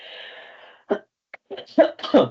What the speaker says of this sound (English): I'm going to cough, excuse me.